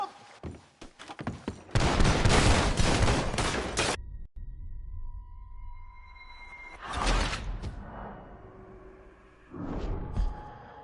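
Loud bursts of gunfire in a Red Dead Redemption 2 shootout with raiders: a dense volley of shots, a lull with a ringing tone, then more gunshots later, each burst sharp and close.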